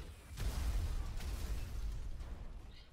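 A vehicle explodes in the video game GTA V, a deep low rumbling blast that swells early and rolls on with a fainter second burst, gradually tapering off with no talking.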